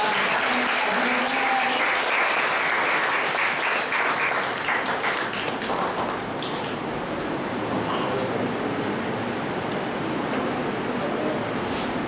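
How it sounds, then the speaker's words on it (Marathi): Sustained applause from a seminar audience at a student prize presentation, a dense, steady wash of many hands clapping that fills the whole stretch at an even, fairly loud level. "सर्वांनी टाळ्या वाजवून"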